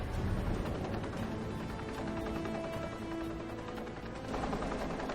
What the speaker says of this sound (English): suddenly, without warning, Karimsky erupts